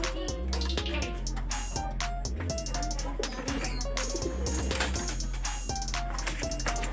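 Pigeons coo in soft, repeated low calls close by, with other bird chirps and some mixed, busy background sound throughout.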